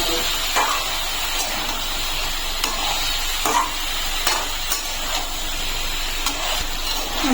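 Capsicum, tomato and onion fry for a chicken stew, a steady hiss broken by regular scraping strokes of a spoon stirring the pan, close and fairly loud with no talk.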